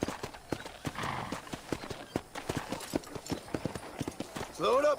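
Horse galloping in Red Dead Redemption, brisk rhythmic clip-clop hoofbeats close by with a short neigh near the end, while someone talks over it.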